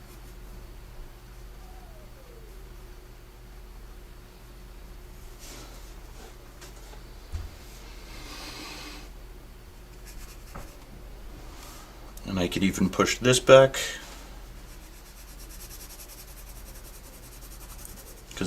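A 2H pencil scratches and rubs across paper while sketching a Bugatti Veyron, soft and close with a brisk burst of short hatching strokes near the middle, under occasional quiet speech.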